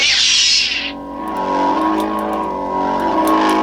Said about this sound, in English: I don't really like the hum sound on this one